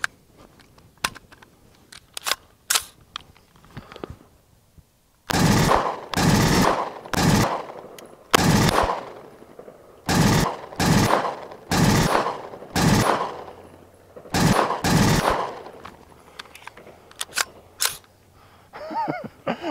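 A rifle fitted with a forced reset trigger and a binary trigger, firing outdoors in loud, rapid bursts: scattered single shots first, then long fast strings of fire with brief pauses between them.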